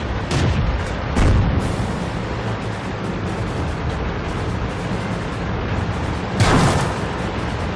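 In a tank combat video game, heavy cannon shots and explosions boom repeatedly over a constant rumbling engine bed, with several loud blasts spaced out across the stretch and no talking.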